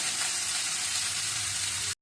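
Onions frying in a pan with salt and turmeric give a steady, close hiss of sizzling oil that runs unbroken for about two seconds, then cuts off abruptly.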